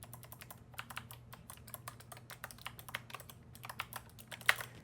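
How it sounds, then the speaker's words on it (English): Rapid, irregular clicking of mechanical button switches on an 8BitDo arcade controller, crisp and close, with a steady low hum underneath and one sharper click near the end. "the switches that come with the controller are fairly clicky"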